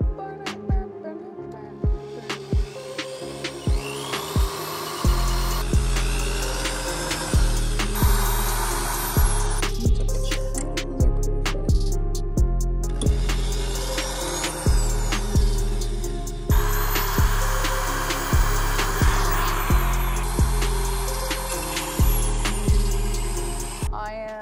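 A power drill bores holes into metal car pedals in repeated short whirring bursts, each spinning up, holding a steady whine and stopping, close and loud with brief pauses between runs.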